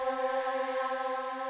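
A synth patch blends a female breath sample with a choir "oo" layer, holding a sustained, airy chord tone with steady harmonics and soft breathy hiss throughout, played alone.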